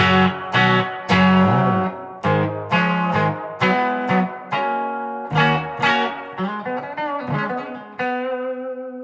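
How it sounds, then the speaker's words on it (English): Clean electric guitar, a Gibson SG through a Splawn amp, picks a rhythmic sequence of ringing notes and chords, close and bright, each attack decaying into the next. "SG with the Splawn, clean sound."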